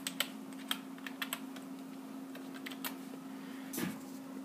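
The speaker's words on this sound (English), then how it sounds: "We can type." Typing on the keyboard of a 2003 Apple eMac computer: scattered light clicking keystrokes at close range over a steady low electrical hum, with a brief rustle near the end.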